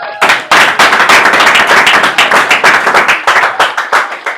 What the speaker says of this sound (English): Let's clap this girl.